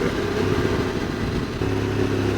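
A motorcycle downshifts for engine braking through hairpin bends on a Pyrenees mountain pass near the Col d'Aspin and Peyresourde. The engine holds a steady, close, mid-pitched drone with a slight change in tone partway through.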